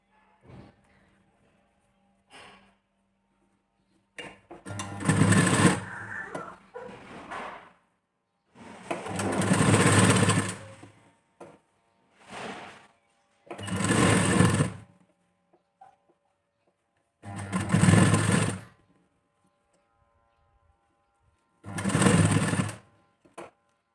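Electric sewing machine stitching piping onto a blouse neckline, running in six separate bursts of a few seconds each with silent pauses between, loud and close, no talking.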